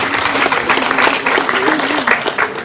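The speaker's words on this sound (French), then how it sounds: "ça s'applaudit, s'il vous plaît, mesdames, messieurs" Audience applause at a charity ceremony handing out scholarships to orphans, dense clapping throughout with a voice speaking over it.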